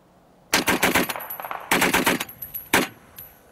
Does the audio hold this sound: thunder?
no